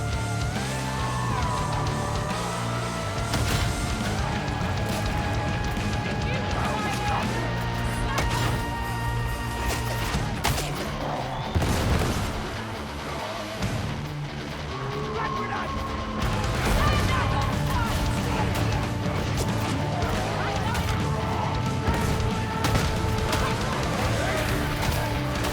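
Grenade explosions and chaotic combat in the Darktide video game, sharp crashing blasts over constant battle noise, with music and a voice talking throughout.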